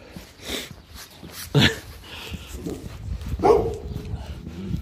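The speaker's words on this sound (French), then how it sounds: "il y a des chiens partout" Dogs bark in short, scattered bursts around a rural village road, some near and some farther off, over light ambient noise.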